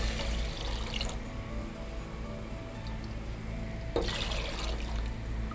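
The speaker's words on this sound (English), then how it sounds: "what I will now have to do is to put some water here." Water is poured into a cooking pot of red onions while jollof rice with lamb sauce is prepared, a faint trickle with brief louder splashes near the start and end.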